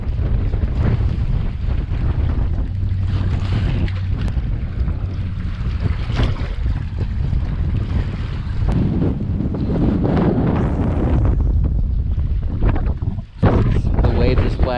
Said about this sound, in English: The waves are bad, the wind is bad.